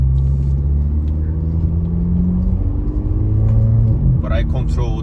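A VW Jetta MK7 with resonator and muffler delete, semi-automatic gearbox held in manual shift, drones loud and steady with engine pitch rising then settling as the revs change, while a person talks over it.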